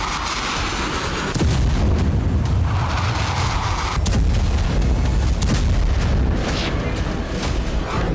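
Turkish artillery bombardment in the Syrian civil war pounds loudly and continuously, with heavy rumbling booms and repeated blasts layered close together across the whole stretch.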